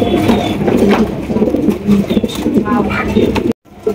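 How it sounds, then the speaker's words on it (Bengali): A pair of Maltese pigeons coo softly and repeatedly at close range, under a man's speech and background bustle, ending with a brief cut to silence. "চমৎকার এক জোড়া মাল্টেস কবুতর"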